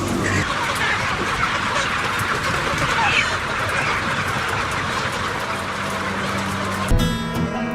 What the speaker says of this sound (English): A lot of these chickens here, they can take a few steps and then they plop down.